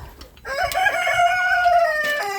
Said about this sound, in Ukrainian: Вони ж такі вредні кури.